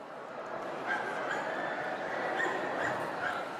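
An Italian dachshund barks and yips at a large dog show, with short sharp calls rising out of the steady murmur of a dense crowd in a big hall.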